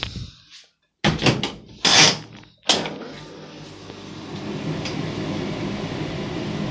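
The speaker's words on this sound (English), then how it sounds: "Not a bad tumble dryer, got it going." A repaired tumble dryer with a former slow-start fault clunks with a few door or latch knocks, then settles into a steady low mechanical hum and drum rumble that runs to the end.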